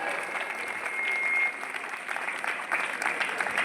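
A crowd applauds steadily at a school science exhibition, many hands clapping at moderate volume from a short distance, without pause.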